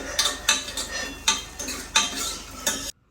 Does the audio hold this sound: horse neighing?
no